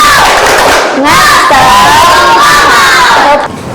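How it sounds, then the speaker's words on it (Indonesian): Classroom of children loudly shouting a rhythmic spirited chant together, voices rising and falling in unison before cutting off near the end. "tepuk semangat"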